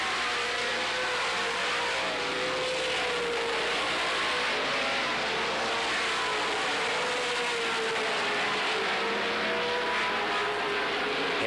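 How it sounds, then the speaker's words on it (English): Stock cars race around an oval track at the Las Vegas Speedrome, a dense, continuous roar of engines that rises and falls as the pack passes. Several cars are heard together, loud and unbroken throughout, with no commentary audible. "And now they're just trying to hang on to the cars, hang on to the machine."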